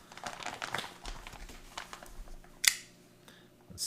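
A 2014 cheeseburger MRE meal package being cut open, crinkling plastic and short cutting scrapes up close, with a sharp snap-like click near the end.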